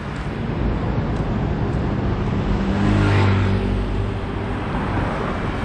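Steady street traffic on a city road in Macau, a continuous roar of car engines and tyres with one vehicle swelling slightly louder midway as it passes close by.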